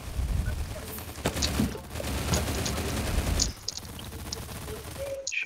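Dense automatic gunfire in the online shooter STALCRAFT during a clan war, a continuous rattling fusillade with overlapping bursts that drops to a quieter spell near the end.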